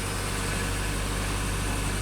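A car's engine idles just after a winter cold start, a steady, even low hum and rumble with no change in pitch, close by and without voices.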